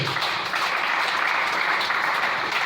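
A church congregation applauding the Lord in a French-language service: steady, dense clapping from many hands filling the room, sustained throughout at even loudness, with no voices over it.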